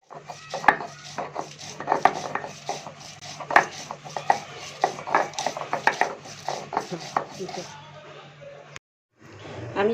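Green chilli, garlic and ginger ground for spices on a hard surface, a run of scraping, knocking strokes in an uneven rhythm, close and fairly loud, then a brief pause near the end.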